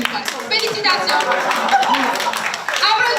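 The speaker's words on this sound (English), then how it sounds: "Applaudissements" A studio audience at a Haitian talk show claps briefly, brisk close handclaps mixed with overlapping chatter and voices.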